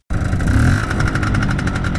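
A 1994 Vespa PK50XL scooter, freshly overhauled with new seals, runs loud and close after starting abruptly, its engine holding a steady buzzing drone with no talk.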